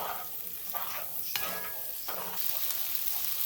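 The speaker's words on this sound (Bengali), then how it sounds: "তারপরে দিয়ে দিচ্ছি সবজিগুলো সবজিগুলো মানে তিন রকম ক্যাপসিকাম পেঁয়াজ আর কাঁচা লঙ্কা একটু সময় নাড়াচাড়া করলেই এগুলো হয়ে যাবে" Capsicum, onion and green chilli are stir-fried in a hot pan, giving a steady sizzle and hiss broken by short scraping strokes of a spatula, close and continuous.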